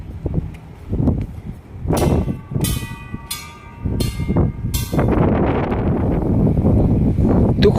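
Temple bells at a Thai hillside temple in Saraburi struck one after another, about four bright ringing strikes with lingering tones, heard close over wind noise and footsteps.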